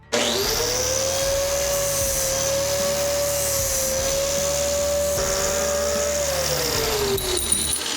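A bench-mounted angle grinder runs steadily in its stand, giving a loud continuous whine that holds for several seconds before winding down near the end.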